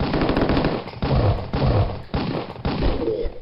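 Rapid machine-gun fire from the video game Killing Time rattles in loud, continuous bursts, several sustained volleys separated by short breaks.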